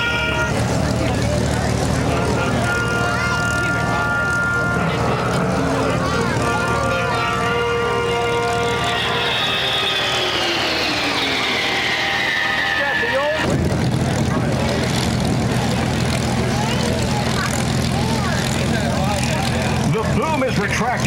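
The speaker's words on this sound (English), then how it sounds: "Another beautiful pass from the KC-135 now, right to left." A KC-135 four-engine jet tanker makes a right-to-left flyover pass at the Quad City Airshow in 2006, its broad jet roar swelling with a falling whine before cutting off abruptly, while an announcer talks throughout.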